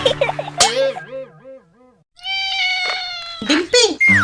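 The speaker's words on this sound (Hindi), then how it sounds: "तुमने बिल्ली का बच्चा कहाँ से लिया?" A kitten meows several times in a cartoon scene, with rising and falling cries and a longer high mew, loud and close, alternating with bits of speech.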